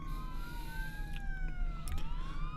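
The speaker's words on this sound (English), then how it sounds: "we got a lot of good nats coming from the sirens of all the fire engines, the trucks, the police" Sirens wail in the distance, rising and falling slowly over a constant low rumble of traffic, with a few short bursts cutting in.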